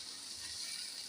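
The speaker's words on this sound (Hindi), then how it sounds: "अब हम पानी डालेंगे इसमें" Water, half a glass, is poured into a pan of egg, potato and radish-leaf dish, giving a soft, continuous hiss and sizzle at low volume with no talking.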